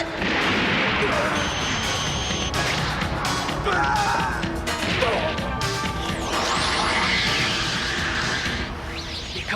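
Blasts of weapon fire in the anime film Lily CAT, loud crashing impacts and bursts layered over a dense, busy soundtrack with voices underneath throughout.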